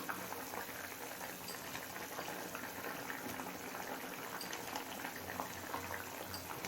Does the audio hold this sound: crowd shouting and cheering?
no